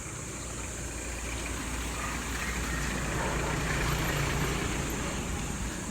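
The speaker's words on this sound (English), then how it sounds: "here's the engine sound so rough" A rough-sounding vehicle engine idles steadily on a street in the Philippines, a continuous low rumble mixed with distant traffic noise, no voices over it.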